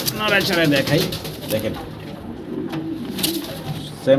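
Pigeons coo nearby in soft, throaty rolls, with a person talking over them and a few rustling bumps.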